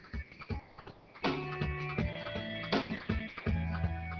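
Metal milling machine cutting a MacBook part from a solid block, with a steady close whine of tonal harmonics and repeated sharp onsets as the cutter engages, continuous and fairly loud.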